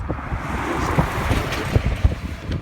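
Gusty wind buffets the microphone outdoors beside a car, a loud steady rush with low thumps and a few sharper gusts, no voices.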